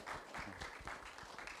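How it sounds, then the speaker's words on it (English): A seminar audience gives a short burst of applause for a panel on supply chain resilience, with quick, even clapping heard faintly at a distance. "a round of applause to our wonderful panelists"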